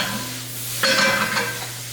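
Vegetables sauté in sausage fat in a cast iron pan, a soft constant sizzle that swells as something drops in or is stirred, then settles, close and without talk.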